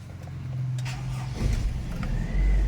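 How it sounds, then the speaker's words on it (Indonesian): A 1997 Toyota Kijang LGX petrol engine cranks and catches, then settles into a steady low idle rumble that grows slightly fuller partway through, close and fairly loud, with no talking. "coba kita hidupkan untuk mesinnya bagaimana lur"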